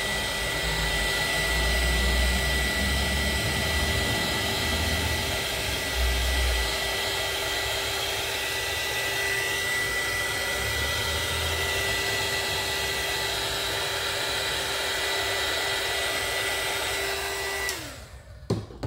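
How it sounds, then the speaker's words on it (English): A heat gun blows continuously over polymer clay, a loud steady whooshing roar with a constant whine, running nearly twenty seconds before switching off with a short rattle at the end. "So I'm gonna take my heat gun and dry it just a little bit"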